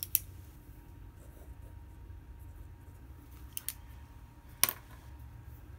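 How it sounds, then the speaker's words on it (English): An I2C address being written down by hand, a few faint scratchy pen strokes and small clicks spread over a quiet room background. "So I'm going to write that down."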